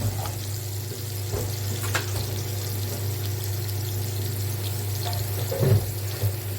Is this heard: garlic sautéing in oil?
yes